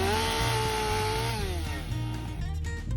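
A chainsaw cuts through the hinge of a hung-up tree during pre-commercial thinning. The engine runs loud and close at a steady high whine, dipping slightly in pitch partway through as the chain bites into the wood.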